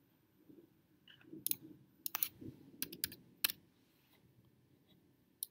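A computer keyboard being typed on while entering a value in ArchiCAD, a handful of crisp, close key clicks in a short irregular burst over a faint room hum.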